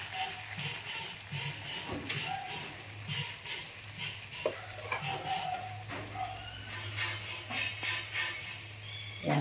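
Sardines with black pepper and fish sauce simmering in a pan, giving a steady low bubbling and soft sizzle with occasional stirring clinks and scrapes, close and moderately quiet throughout.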